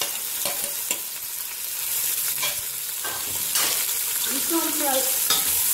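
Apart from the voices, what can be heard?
chopped onions frying and being stirred in oil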